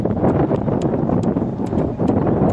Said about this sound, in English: With the wind blowing.